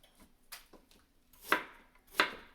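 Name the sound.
knife chopping an onion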